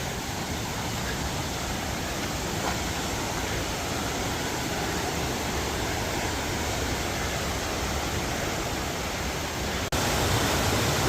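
Waterfall on a hiking trail near Machu Picchu, a dense, continuous rushing roar heard close by and unchanging throughout.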